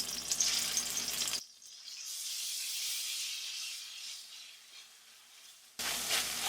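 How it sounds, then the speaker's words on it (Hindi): Ginger garlic paste fries in oil with a steady, close hiss and sizzle, broken by a quieter stretch of softer crackling before the loud sizzle returns. "अच्छी तरह से फ्राई करेंगे।"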